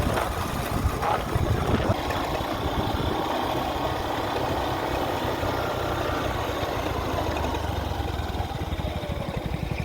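Old motorbike engine idles steadily on a mountain climb, a continuous low rumbling drone close by that holds evenly throughout with no talking.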